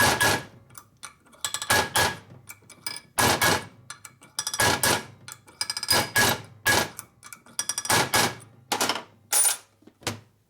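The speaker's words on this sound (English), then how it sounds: "Peen it again." Hammer peening a part for a 1967 74ci Harley-Davidson shovelhead motor rebuild, sharp metallic strikes in quick clusters of two to four blows separated by short pauses, close and loud.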